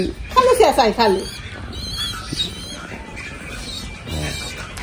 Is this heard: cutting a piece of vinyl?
no